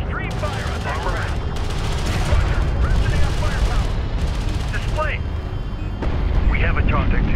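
Rapid bursts of weapons fire from strike craft in the desert real-time strategy game Homeworld: Deserts of Kharak, steady dense crackling and booming volleys filling the whole stretch, with a voice talking over the battle.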